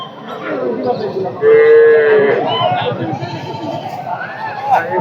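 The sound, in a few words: cow mooing at a cattle market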